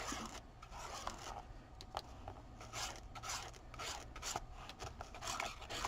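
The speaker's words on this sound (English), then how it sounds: "I just have a little bit on the palette knife, and I'm just gonna scrape it on until I get some kind of a design" A palette knife scrapes paint across a junk journal cover in a steady, close, raspy rubbing with repeated short strokes and no talk.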